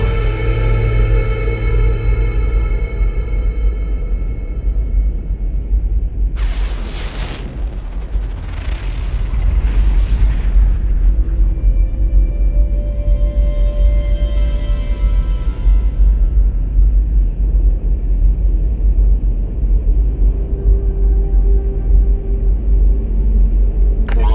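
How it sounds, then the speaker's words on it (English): A storm in the video game No Man's Sky, a loud continuous low rumble with roaring gusts and a few bursts of sharp crackling, heavy and enveloping with no talk. "Oh, there's a storm going on."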